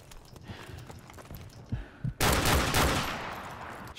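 Gunfire from a first-person shooter, Call of Duty 4: Modern Warfare Remastered in gun game mode, with scattered shots and steps leading into a loud sustained burst of automatic fire that fades over the final seconds.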